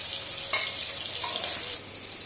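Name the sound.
potatoes frying in oil in a pan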